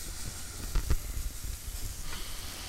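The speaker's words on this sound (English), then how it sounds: "Hear that sizzle." Turkey burger mixture sizzling in a hot pan, a loud steady crackling hiss with a few sharper pops near the start, no talk over it.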